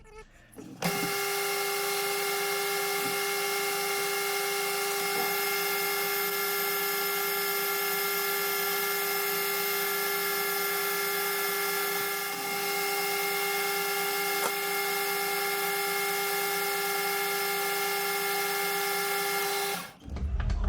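A metal lathe turns down the outer diameter of a pressure washer fitting, giving a steady whining tone with strong harmonics that holds for about nineteen seconds between quiet starts and stops.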